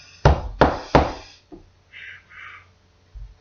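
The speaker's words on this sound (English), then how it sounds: "he knocked on the door" Three loud, evenly spaced knocks on a wooden door, sharp and close, followed by a few fainter soft sounds and quiet mid-pitched tones.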